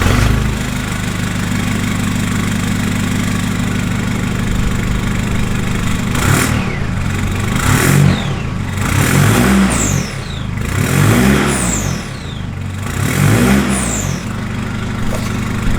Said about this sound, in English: we'll fire it up and give it a little bit of a revvy